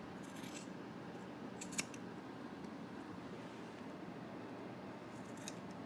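Scissors trim a stitched fabric seam and corner for a cardigan, making a few faint, close snips over quiet room noise.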